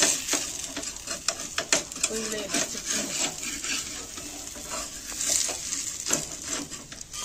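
An onion thalipeeth cooks on a hot griddle, a soft steady sizzle close by with scraping and rubbing touches from a spatula, and brief voices partly over it.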